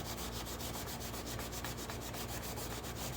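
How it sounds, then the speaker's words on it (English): Pumice and a Scotch-Brite pad scrub copper in a steady, rapid back-and-forth rasp, close and continuous, with no voices. "scrubbing with the pumice and the Scotch-Brite. Go in all directions"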